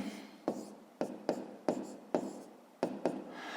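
A hand writes a math equation on paper, with about eight short close strokes in an uneven rhythm, quiet and without talking.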